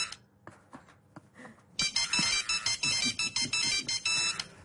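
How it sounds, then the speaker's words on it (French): A telephone rings for an incoming call in a radio comedy sketch, a loud, repeating electronic ringtone in rapid bursts that follows a few soft scattered sounds. "François Hollande a téléphoné au nouveau président des États-Unis."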